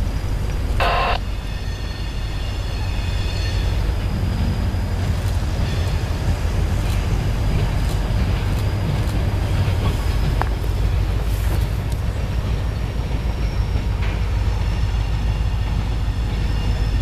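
A freight train rumbles past in Dolton, Illinois continuously at low pitch, steady and loud, with occasional metallic squeals and clanks over the long passage.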